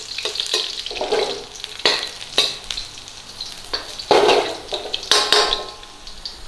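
Garlic frying and being stirred in a pan for pineapple shrimp fried rice, a close steady sizzle broken by repeated scraping and clanking strokes of a utensil against the pan.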